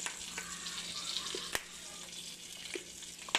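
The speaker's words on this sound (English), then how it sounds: "Let that sizzle on there for a little bit." Chicken sizzling in a frying pan while lemon pepper and garlic powder are sprinkled on, a steady close crackle with a few sharp clicks and scrapes from utensils.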